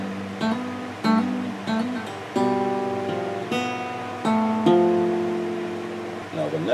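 An acoustic guitar plays the chord part from a song, with single strings and chord strums plucked one after another. Each note rings clearly and decays before the next attack.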